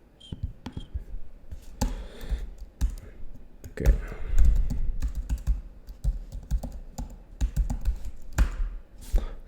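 Rapid clicking of keys on a computer keyboard, irregular bursts of typing with brief pauses, close and moderately loud.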